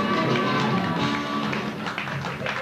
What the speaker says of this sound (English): Irish dance at its best